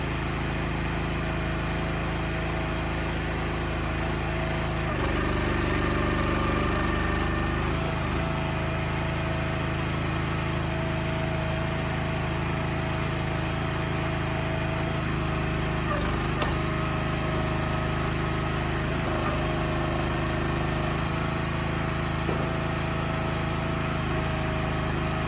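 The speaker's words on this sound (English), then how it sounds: "the Split Fire allows me to aim the knife exactly where I want to and split the wood" A Split Fire log splitter runs steadily as firewood is split, its small engine droning loud and constant throughout with occasional cracks and shifts as the wood gives way, and no voices.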